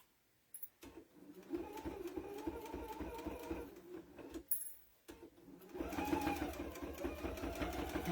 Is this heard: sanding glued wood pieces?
no